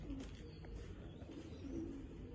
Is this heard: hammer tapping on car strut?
no